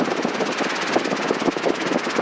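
A Robinson R22 helicopter in flight during a training lesson gives off a steady, loud, rhythmic rotor thump over the hum of its engine, and no one talks over it.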